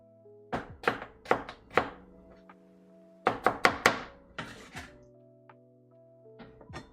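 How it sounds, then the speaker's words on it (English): A knife chopping potatoes on a cutting board: two bursts of four or five crisp, close thunks each, separated by short pauses, with a faint tonal hum underneath. "potatoes always slow down the cutting process"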